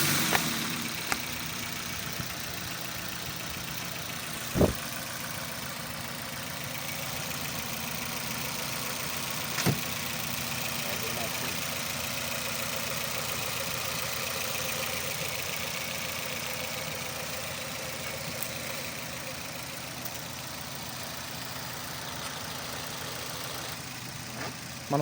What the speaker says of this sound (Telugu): ఒకసారి మీకు ఇంజిన్ స్టార్ట్ చేసి నాయిస్ కూడా చూపిస్తాను